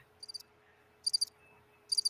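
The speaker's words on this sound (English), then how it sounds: "I hear crickets." Crickets chirp outdoors in three short pulsed bursts spaced evenly apart, each a quick trill of high notes over a quiet background hum.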